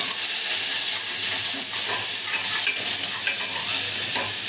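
Onion fries in a pan over low gas, giving a steady, close sizzle and hiss with soft stirring scrapes now and then, continuous throughout and without any talk.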